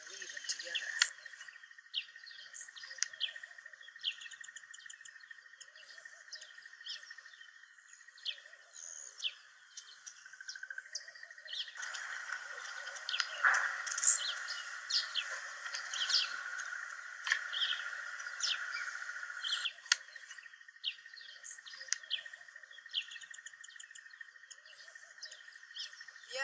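Small birds chirp and tweet steadily over a continuous insect-like buzz while they weave blades of grass into nests, with calls scattered throughout and growing busier midway.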